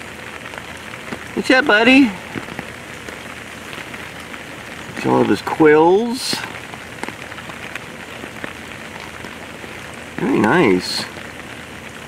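Steady rain falls on surfaces at an outdoor zoo, a dense hiss that runs through the whole stretch, while someone speaks briefly three times over it.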